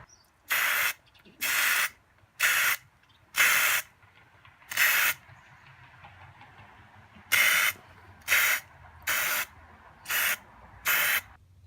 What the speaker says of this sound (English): So I'll be using this flat black paint.